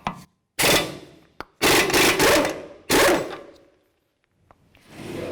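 Loosening a 32mm CV axle nut on a 2011-2014 Hyundai Sonata, several loud rasping bursts of an impact or ratcheting tool, each lasting about a second, separated by short pauses and close to the listener.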